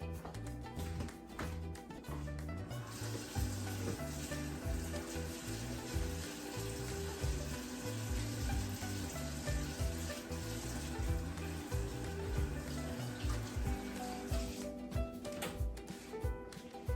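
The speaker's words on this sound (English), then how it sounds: "I will go ahead and I'll wash my hands" Water runs steadily from a kitchen tap during handwashing while preparing a caramel cheesecake, a continuous hissing stream with music playing underneath throughout.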